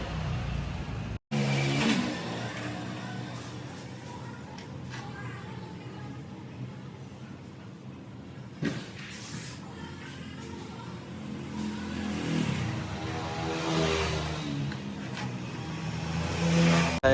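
A motorcycle engine after repair runs and revs nearby, a whirring drone that rises and falls in a few throttle bursts, with a sharp knock or click early on.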